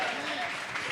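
Dense applause from a church congregation fills the moment, with voices mixed in beneath the clapping.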